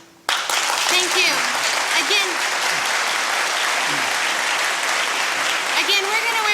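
A debate audience in Hamilton breaks into loud, sustained applause right after a candidate's closing thanks, a dense clapping wash with a voice talking over it.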